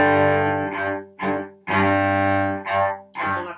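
Bowed cello notes in the Allegretto rhythm, two short strokes then a longer note given a heavy, accented start, repeated twice; near and clear, with no voices.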